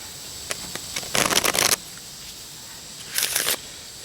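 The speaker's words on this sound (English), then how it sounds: "we're going to take face-up cards into face-down cards, and we're going to shuffle those together" Two quick riffle shuffles of playing cards, each a dense flutter of snapping card edges, preceded by a few soft taps.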